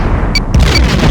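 A starship takes enemy fire in Star Trek: A Final Unity, heard as a loud booming explosion with a couple of bright tonal blips, rumbling on for about a second.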